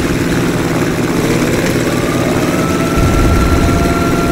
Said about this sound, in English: Yo, I think this helicopter.